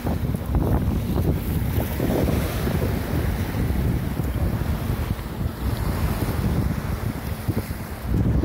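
Steady roar of ocean waves washing onto a Florida beach at Blind Pass, loud and continuous, with heavy wind buffeting the microphone throughout and no voices.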